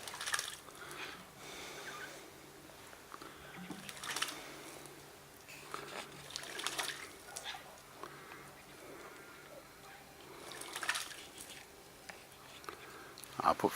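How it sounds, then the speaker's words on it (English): A magpie bathes in a fresh-water dish outdoors on a sunny day, making faint, scattered splashing bursts a few seconds apart against quiet background. "Magpie's going to have a bath again."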